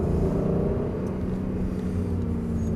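A car's engine pulls steadily from inside the cabin on a track-style driving lesson, a loud low droning rumble with rising tones as it accelerates out of a braking zone.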